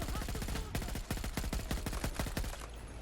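Rapid automatic gunfire in a Battlefield video game rattles off in a dense, loud burst of closely spaced shots that run for about two and a half seconds before trailing off.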